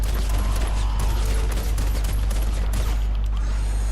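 Basilisk pistol firing in Fortnite Save the World, a rapid continuous stream of loud close gunshots with mechanical clicks, emptying a magazine over several seconds.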